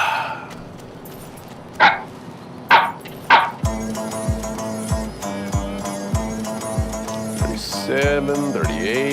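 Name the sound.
dog barking in a Mountain Dew Super Bowl commercial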